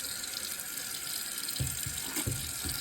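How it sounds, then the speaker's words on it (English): Warm water runs steadily from a sink tap while a bowling ball is rinsed under it, giving a constant hiss and splash with a few louder splashes and knocks near the end and no talking. "This time I'm going to use a tad of warm water"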